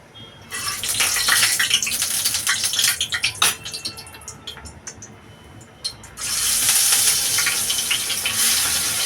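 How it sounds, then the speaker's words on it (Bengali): Fresh fish dropped into hot oil in a village kitchen, a loud steady sizzle and spatter that swells at the start, crackles unevenly, then surges again near the end. "তেলটা গরম হয়ে গেছে মাছগুলো দিয়ে দেবো"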